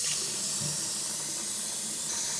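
Elderberries being rinsed in a bowl under running city tap water, a steady close hiss and splash of flowing water that continues without pause.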